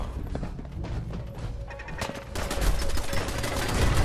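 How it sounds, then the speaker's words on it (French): Gunfire in Fallout 4, a dense and loud fusillade of shots and impacts that swells toward the end, with faint voices underneath. "Un tir de soutien par ici"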